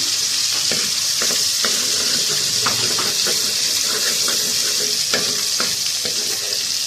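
Potato and capsicum cutlet mixture frying in a pan, a steady loud sizzle with repeated scraping stirs of a utensil throughout, no voices.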